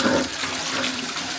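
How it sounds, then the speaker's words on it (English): A toilet flushing in an Irish cottage after the water supply has just been reconnected, a steady rushing gush of water that carries on for the whole stretch, fairly loud and close. "See if we got a flushing toilet."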